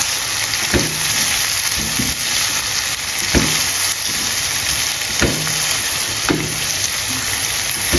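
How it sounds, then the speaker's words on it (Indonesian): Tempeh frying in a pan with sweet soy sauce, a continuous hiss and sizzle broken by regular scraping knocks of a spoon stirring it, close and steady without speech. "Kemudian kita aduk supaya tercampur"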